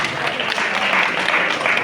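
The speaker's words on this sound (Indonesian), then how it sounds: "Tepuk tangan untuk beliau semuanya" Seated audience of Islamic religious education teachers at a halal bihalal gathering applaud for an honoured guest, giving a dense, steady burst of hand clapping at close range that stays even from start to finish.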